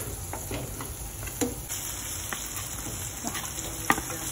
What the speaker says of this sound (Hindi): हम डाल रहे हैं मिर्ची।